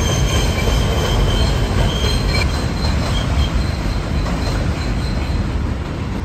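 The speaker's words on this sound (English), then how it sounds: "Let's go chase that train." A subway train rumbles loudly and steadily across a bridge, wheels grinding and squealing on the rails with a faint high whine throughout; no voices.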